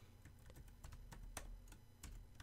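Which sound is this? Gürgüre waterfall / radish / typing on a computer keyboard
typing on a computer keyboard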